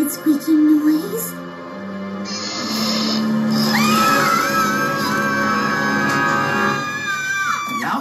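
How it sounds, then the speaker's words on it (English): Cartoon ponies screaming together, loud overlapping high-pitched shrieks and wavering yells that build into a long sustained cry, with a few shorter vocal bursts at the start. "Y'all can stop screaming now."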